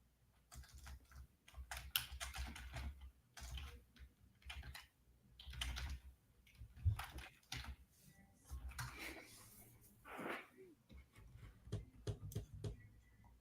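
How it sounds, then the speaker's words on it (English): Steady typing on a computer keyboard, a quiet run of rapid, irregular key clicks and taps with brief pauses, close by and soft, with no one talking. "I'm typing it in."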